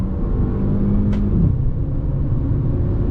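Jeep Renegade Longitude 1.3 turbo pulling hard at full throttle with a downshift to second gear, a steady loud cabin engine roar and rumble with a brief rise in pitch around the gear change, no talking.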